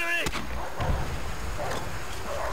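Enemy artillery fire in a Call of Duty: World at War multiplayer match, heavy booming blasts and rumble running throughout under game voice announcements.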